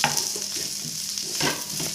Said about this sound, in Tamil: போட்டு நல்லா வதக்கி விடணுங்க